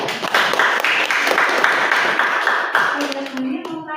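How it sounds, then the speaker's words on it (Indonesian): Students and teachers at a school class presentation applaud in a steady, dense round of clapping that fades as a voice begins speaking near the end. "Tepuk tangan."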